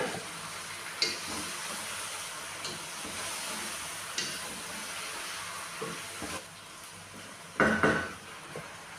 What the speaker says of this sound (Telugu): ఇప్పుడైతే చికెన్ కూడా వేసేస్తున్నాను.